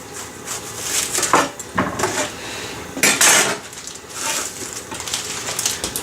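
A knife roughly chopping on a cutting board while preparing chili beans, with several sharp, irregular knocks close up and faint clinks of dishes around them.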